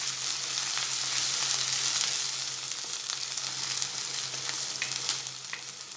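Crushed ginger, chili and garlic sautéing with onion in a pan for dal fry, a steady close sizzle with light crackles and occasional stirring scrapes, no talking.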